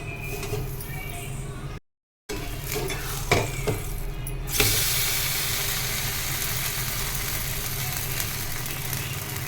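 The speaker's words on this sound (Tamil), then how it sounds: "கூட கொஞ்சமாக வெண்ணெய் சேர்த்துட்டு அப்படியே தோசை எடுத்துடலாம்" Wheat dosa cooking on a hot pan with a little butter, a continuous close sizzle that swells louder midway, with a brief dropout and a few faint utensil taps, no talk.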